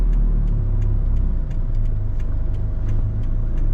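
A heavily loaded 4-ton truck descends the Chong Takoh mountain road in second gear, its engine holding a loud, steady low drone with a faint rhythmic ticking over it and no talk.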